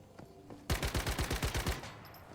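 Rapid automatic gunfire in the survival shooter game Once Human, a burst of about ten evenly spaced booming shots, loud and close, then quiet game ambience.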